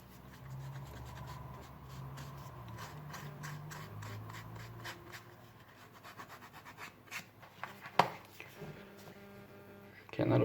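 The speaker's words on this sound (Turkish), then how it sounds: "Şurayı zımparalayalım." Steady rubbing and scraping strokes of sandpaper worked over leather, continuing under a low hum with a few sharper knocks near the end.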